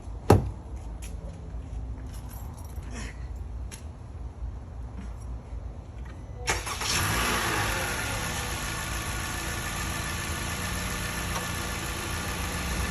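A 2022 Honda Civic Sport hatchback with a 2.0L engine and a K&N Typhoon intake cranks and fires up after some quiet clicks, then settles into a steady, even idle close by.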